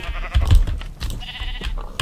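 Sheep in a block-building survival game let out several short, nasal bleats in quick succession, close and clear, with brief pauses between calls and no voices.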